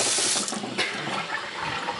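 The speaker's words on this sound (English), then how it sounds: "Get whatever pot you're gonna use. Put some water in it." Tap water pours steadily into a cooking pot for a soup, a close, continuous splashing rush with slight changes in tone as the pot fills, no voices over it.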